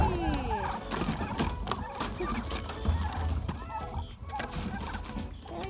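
A flock of farm turkeys gobbles and clucks while being fed outdoors on a homestead, their busy overlapping calls mixed with scattered clatter and movement noise.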